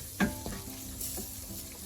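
Spices with degi mirch and coriander powder fry in a pan for a paneer butter masala, giving a soft steady sizzle with a couple of stirring scrapes near the start.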